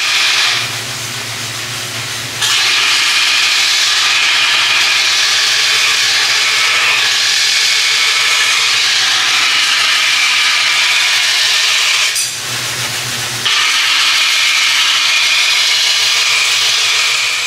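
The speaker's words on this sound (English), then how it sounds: "with a vertical grinding wheel, where they put the knife blank into some kind of wooden construction and push it against the wheel" A vertical grinding wheel at the HADO knife atelier grinds the profile of a knife blank held in a wooden jig, giving a loud, sustained hissing rasp that drops away briefly twice while the wheel keeps humming.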